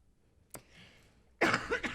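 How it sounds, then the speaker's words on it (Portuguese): A single sharp cough, followed a moment later by a louder, rougher burst of coughing and throat clearing, close up with no talking. "Preciso tossir."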